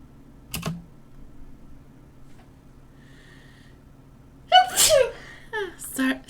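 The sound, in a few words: sneeze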